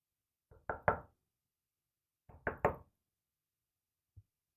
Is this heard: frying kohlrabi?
no